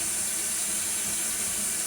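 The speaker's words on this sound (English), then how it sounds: "I don't want to put it into this sink while that water's running" Water runs steadily from a sink tap at a moderate level, a continuous hiss and splash with no speech over it.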